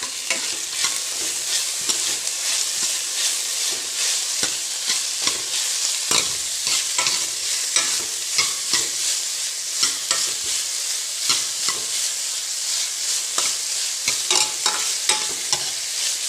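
Chopped capsicum stir-fried in a pan, a steady close sizzle of frying with frequent scraping and tapping of a stirring utensil throughout, no voices.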